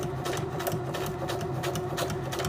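A sewing machine runs steadily while back stitching over the end of a seam, its fast needle chatter continuous and close with a low motor hum underneath.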